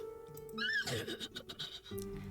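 A horse in a video game gives one clear, shrill whinny lasting about two seconds. It rises and then shudders down over a quiet background.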